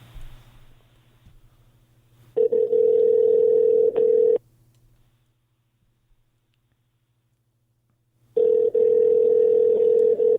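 A telephone call-back tone plays as two loud, steady electronic beeps separated by several seconds of near silence, heard alone over a faint low hum.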